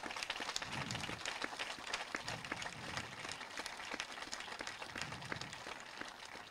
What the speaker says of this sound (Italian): Un ringraziamento e un applauso anche forte lo darei allora a Billy